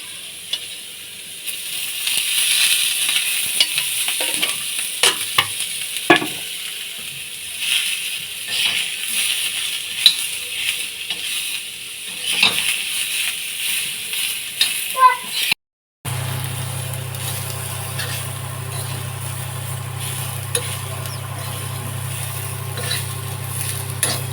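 Chopped onion sizzles in a little oil in a pan, a steady bright hiss with faint stirring clinks and a voice talking over it, then a low steady hum takes over after a brief cut.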